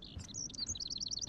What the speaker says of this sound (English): can you help me get this bird out of here?